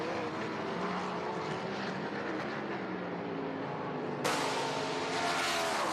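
Race cars in a Trans Am sprint at Canadian Tire Motorsport Park roar past on the track, a loud sustained engine drone that swells sharply near the end as a car passes close.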